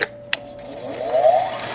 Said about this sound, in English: we'll try cleaning it up with the grinder